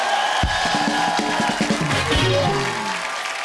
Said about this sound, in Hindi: एक बार गुरु रंधावा के लिए जोरदार तालियां